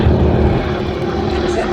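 Propeller aircraft flying past at an air show, a steady, broad engine drone with a throaty low rumble, loud and continuous throughout.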